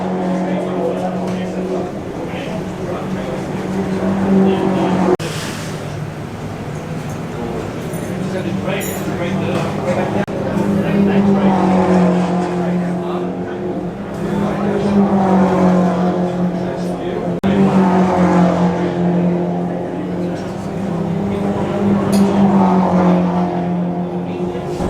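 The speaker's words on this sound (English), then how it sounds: "This is the Formula 5000 Lola from the 1970s. A really wild single-seater open-wheel Formula of the 1970s." 1970s Lola Formula 5000 single-seater open-wheel race car drives nearby, its engine droning loud and steady with repeated rises and falls in revs, while someone talks over it.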